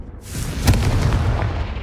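A single fiery spell blast from the Confringo curse in Hogwarts Legacy, a sharp booming burst that rolls into a lingering rumble, close and loud with no talking.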